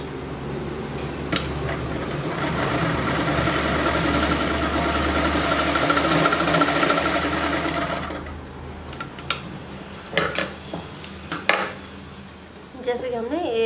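Sewing machine stitching a khajoori salwar, a steady close whirring run that stops abruptly, followed by handling clicks and fabric rustles.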